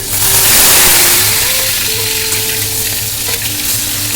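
Onion paste frying in hot refined oil in a wok, a steady close sizzle with soft stirring scrapes running throughout, no talk.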